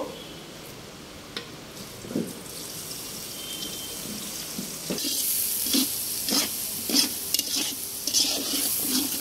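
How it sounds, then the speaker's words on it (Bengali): Fish fries in a pan, starting as a faint crackle and turning into a louder, denser sizzle halfway through, with repeated clattering stirs and scrapes up close. "আমরা এখন মাছ ভাজতেছি"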